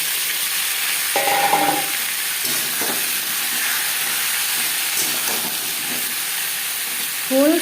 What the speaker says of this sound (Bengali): পাঁচফোড়ন ভেজে নেওয়ার পর দিয়ে দেবো আলু